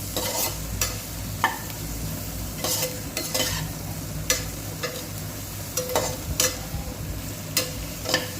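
Chopped spring onions are stirred in a hot pan for tamarind kuzhambu, a spoon scraping and clinking in irregular strokes over a steady low sizzle, close and clear with no talk.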